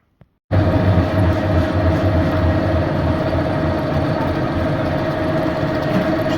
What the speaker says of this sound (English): So we're just machining the spigots for the brake drum to fit on the hub base